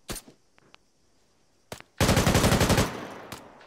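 Machine gun fire from the tactical shooter Arma 3: a few scattered single shots, then a loud sustained automatic burst of roughly a dozen rapid rounds, followed by a sharp trailing shot, with no talking.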